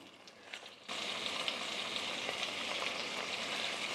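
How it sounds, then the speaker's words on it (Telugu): Tomatoes drop into a hot pan of bottle gourd curry and set off a sudden, loud, continuous sizzle that stays steady after a quieter start, with no talking. "టమాటా వేసాను. కలిదిప్పుకుందాం బాగా."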